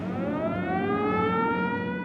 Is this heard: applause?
no